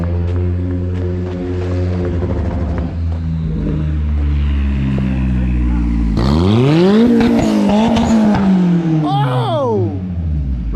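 A turbocharged Honda Civic revs loudly with a droning engine note, then launches hard, its pitch sweeping up and down close by.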